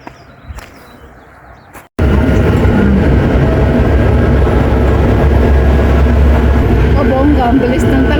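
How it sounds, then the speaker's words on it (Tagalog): A train rushes past close by outdoors on a spring day, loud rumbling and roaring rail noise bursting in abruptly after quiet ambience and staying strong to the end. "Ang bilis ng talbo ng train."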